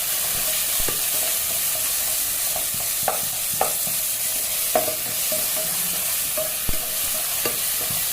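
Garlic and ginger sautéing in a frying pan, a steady loud sizzle throughout with scattered clicks and scrapes of stirring against the pan.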